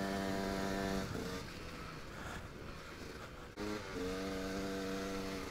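KTM 125 EXC enduro motorcycle on a ride, its engine droning close by at a steady pitch, dipping as the throttle eases midway, then revving back up.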